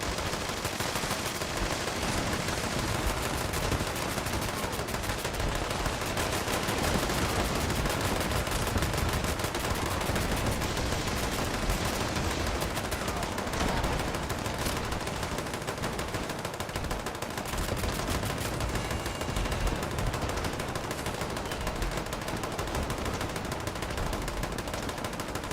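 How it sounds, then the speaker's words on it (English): Continuous automatic weapon fire from the video game Fallout 76, dense rapid bursts running nearly unbroken at steady loudness throughout. "God, that weapon is annoying sounding"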